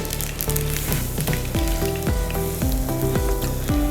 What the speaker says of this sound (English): Put some garlic.